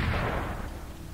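Under-barrel grenade launcher shot in the online game Stalker Online, one deep booming blast at the outset decaying into a low rumble.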